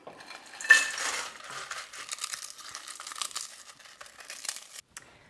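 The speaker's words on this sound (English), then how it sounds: "I'm going to add the ketchup crisp to the dry ingredients." Ketchup-flavoured potato crisps being tipped into a bowl of dry baking ingredients, producing crinkly rustling and light clattering that starts with a burst and continues in irregular scrapes before stopping abruptly.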